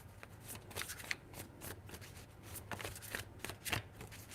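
Tarot cards are shuffled by hand, quiet close riffling bursts repeating in an uneven rhythm with no voices.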